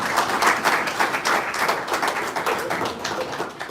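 Applause from an audience fills the close of a school-hosted exam dissemination workshop, a dense continuous patter of many hands that stays steady throughout.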